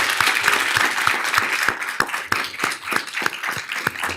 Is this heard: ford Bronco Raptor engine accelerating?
no